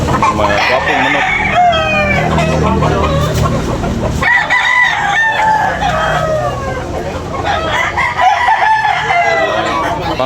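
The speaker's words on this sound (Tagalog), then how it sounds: "Mga gwapong manok." Roosters crow repeatedly at a busy morning chicken market in Tabunok, Cebu, their calls overlapping with clucking fowl and a dense crowd murmur.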